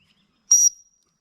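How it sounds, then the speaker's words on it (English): A survival rescue whistle sounds one short, sharp, high blast outdoors. It stands alone against silence and cuts off quickly, leaving a brief thin tail. "Now the sound of a whistle will travel a lot further than someone yelling."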